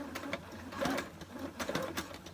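Sewing machine stitching an elastic waistband, with rapid rhythmic needle clatter in short bursts and brief pauses, close and fairly quiet.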